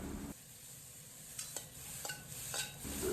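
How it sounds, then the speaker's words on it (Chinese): Eggplant pieces pan-fry quietly in a wok with a little oil and salt, a faint hiss punctuated by a few sharp scrapes and taps of a spatula turning them. "把茄子煎至4面微微发黄。"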